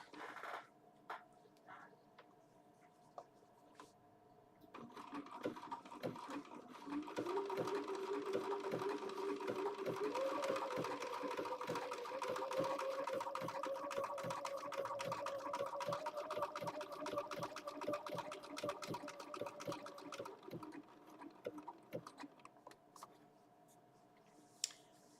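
A Bernina sewing machine stitches steadily for about thirteen seconds, a fairly quiet whirring hum with a faint pitch rise, framed by soft clicks and handling noises before and after.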